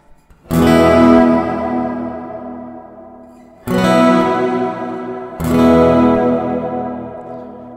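Plate reverb from an Allen and Heath CQ18T mixer on three loud, sustained strummed chords, each ringing out with a long smooth decay before the next begins.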